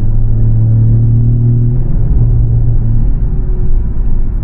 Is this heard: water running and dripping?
no